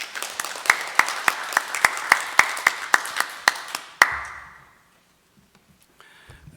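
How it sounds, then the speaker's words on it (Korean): A church congregation at a Sunday worship service claps to welcome the preacher, with about a dozen sharp, evenly timed claps in unison for roughly four seconds before the room falls nearly silent. "우리 박수로 환영하겠습니다."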